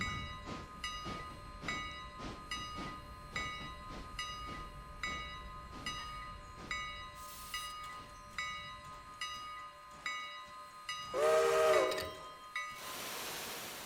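Steam locomotive pulling a passenger train in Railroader, with a regular chuffing exhaust beat pulsing rhythmically, steady tonal hum underneath and a loud hissing burst of steam near the end.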